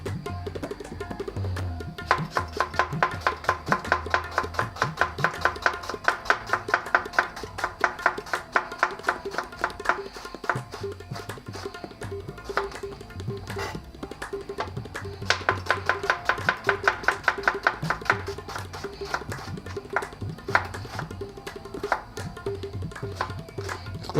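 A knife chops an onion on a board for Punjabi rajma, a rapid, even run of sharp taps in two long bursts with a short pause between them, close and clear, with no talk.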